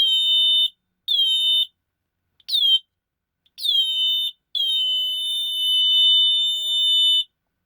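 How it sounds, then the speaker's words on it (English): Two shrill electronic tones beat against each other in loud on-off bursts, then hold steady for about three seconds with a wavering, interfering pulse before cutting out, with no voices. "because we have 2 frequencies, and we have the constructive and destructive interference, when they are both together, they're even more annoying"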